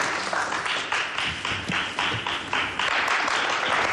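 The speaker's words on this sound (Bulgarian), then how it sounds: "Аплодисменти." Applause from a television game show studio audience after a deal is struck, a dense steady wash of many hands clapping that holds at even strength for the whole stretch.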